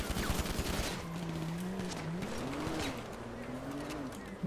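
Rapid gunfire crackles in a video game roleplay shootout, dense bursts of shots under a droning engine-like tone, with someone talking over it.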